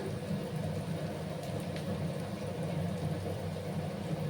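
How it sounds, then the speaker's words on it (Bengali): Onions frying in a pan give a steady, soft, hiss-like sizzle that holds evenly and fairly quietly throughout, with no voices. "একটু সময় আমি পেঁয়াজগুলোকে ভেজে নেব"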